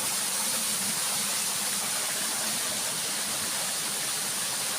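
Continuous broadband rush of falling water at a waterfall among large rocks at Ban Ang in Na Tan, a steady hiss with no breaks or voices.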